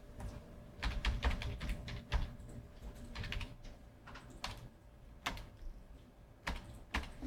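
Computer keyboard typing while entering terminal commands during a chemistry lab screen session, with irregular bursts of close, crisp key clicks and short pauses between runs of keystrokes.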